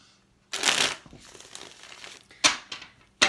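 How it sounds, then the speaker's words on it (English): Tarot cards shuffled by hand in a quiet room: one long riffling burst, then softer shuffling rustles and two more short sharp riffles, close and crisp with no talking. "One more good shuffle."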